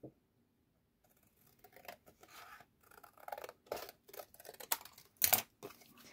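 Scissors snip through paper while a DIY shaker envelope for a Valentine's card holder is made, a close, quiet run of crisp irregular cuts and rustles after a brief pause.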